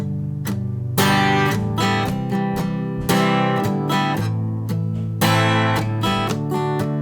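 Acoustic guitar strummed through a sequence of chords, bright ringing strokes with open strings sustaining between the changes, close and full, no voice.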